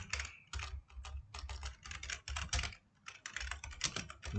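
Rapid, irregular keystrokes on a computer keyboard entering a router IP address for a gig 0/0 interface, close and steady with brief pauses between bursts, no talking.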